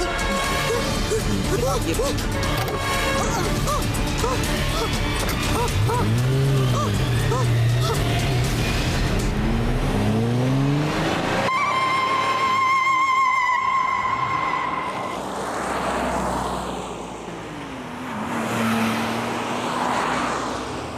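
A car engine drones steadily on a road drive, with a sudden crash-like burst partway through and agitated voices talking over the motor noise.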